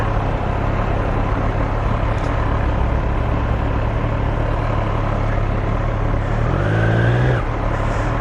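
A 2021 Triumph Street Triple RS motorcycle on a test ride gives a loud, steady engine and wind roar throughout, with a brief rising rev near the end.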